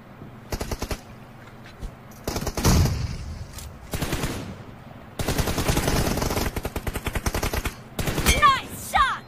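Bursts of rapid automatic gunfire from a team deathmatch video game, several loud volleys separated by short gaps, with excited talk between and over the shots.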